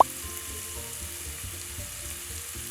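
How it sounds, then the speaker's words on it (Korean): Thin-sliced beef brisket and onion frying over high heat in a pan without added oil, giving a steady, even sizzle that runs unbroken at moderate volume with no talking. "우삼겹 자체에서 기름이 많이 나오기 때문에 볶아주세요. 벌써 기름이 나오고 있거든요."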